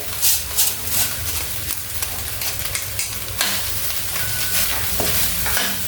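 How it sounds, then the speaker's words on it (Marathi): Cooked rice being stir-fried with masala for lemon rice, a loud close sizzle with frequent scraping and clattering of a spatula against the pan throughout. "शिजलेला भात जो आहे तो आपल्याला परतून घ्यायचा आहे"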